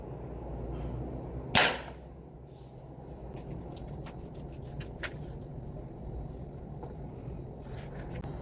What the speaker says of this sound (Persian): ما 2 تا تیر شلیک کردیم